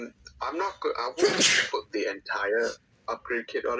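A single sharp sneeze bursts out mid-clip, loud and close, between stretches of ongoing conversational speech.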